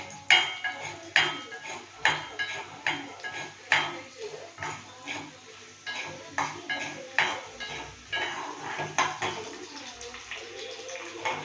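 Mint chutney ingredients sautéing in a hot pan, with a ladle clattering and scraping against the metal in quick, irregular strokes. The sounds are close and prominent, backed by a faint sizzle, and no one speaks.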